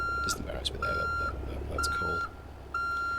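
A truck backing up in American Truck Simulator, a Kenworth T300 with a Caterpillar 3126B engine, gives steady repeated reversing beeps in long evenly spaced tones over a low engine rumble, fairly loud and close.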